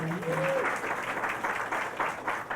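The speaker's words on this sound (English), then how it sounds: "Can we give a round of applause for both of those things?" An audience applauds after a presentation on cultural expressions of care, with dense, steady clapping that fills the space evenly from start to finish.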